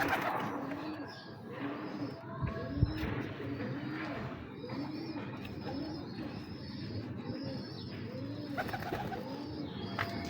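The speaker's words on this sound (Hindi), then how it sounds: "सौ फीसद खालिस इमामदीन कबूतर है ये।" Imamdin pigeons cooing repeatedly in soft, rolling calls, several birds overlapping at close range with a faint background hum.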